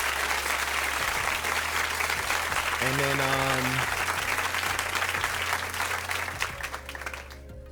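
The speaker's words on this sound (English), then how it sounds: "let's get a quick applause for that" Steady broadband applause fills the whole stretch, celebrating a seven-day streak badge in TryHackMe's Advent of Cyber, with a brief voice rising over it midway before the clapping thins slightly at the end.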